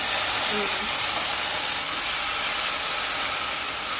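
Mixer grinder whirring as it blends onion into paste for a tamarind-leaf egg curry, a loud, steady high-pitched hissing whine held for several seconds, close by with no talk.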